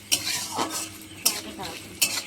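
Onions frying with salt in a pan while a spoon stirs, giving three sharp metallic scrapes against the pan over a soft background sizzle.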